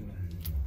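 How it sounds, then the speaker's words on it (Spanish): Old hotel room keys jangle close by in a small single room at a Paris hotel, with a brief metallic rattle in two or three quick clinks. "tengo que dejar las llaves"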